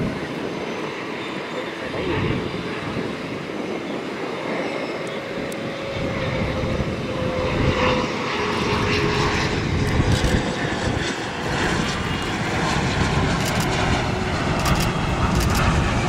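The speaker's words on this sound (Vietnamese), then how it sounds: "Và bây giờ chiếc máy bay hạ cánh xuống đường băng 25 phải." A Sun Air Gulfstream G650ER business jet lands on runway 25R at Tan Son Nhat airport, its engine roar and rumble building steadily louder over sixteen seconds as it passes close by, with no talking.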